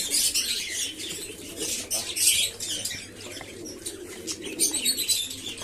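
Pigeons flap out of their old, run-down cages one by one, with bursts of wingbeats and soft cooing and chirps mixed over a steady low background hum.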